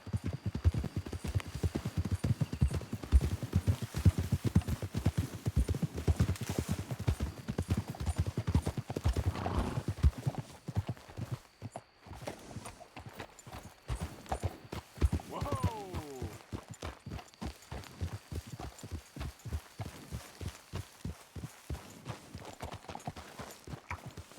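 Horses in Red Dead Redemption 2 keep up a steady rhythmic clip-clop of hooves across the passage, slowing in places, with a brief whinny partway through and voices talking over the hoofbeats.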